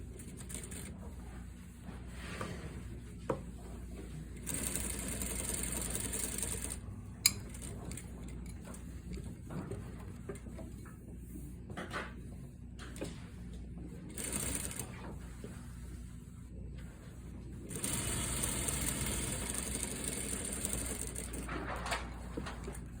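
A sewing machine stitches fabric around a corner, running in quiet bursts of rapid needle clatter with brief pauses where the needle pivots, faint and close with light handling noises between.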